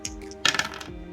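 Dice clatter onto a hard surface in one short rattling burst with a few quick bounces before settling, close and alone.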